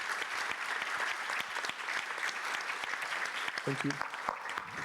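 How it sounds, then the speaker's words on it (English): An audience at a conference on novel foods, feeds and ingredients gives speakers a steady round of clapping, fairly quiet and continuous, with a brief spoken thanks over it. "ask an applause for these great speakers"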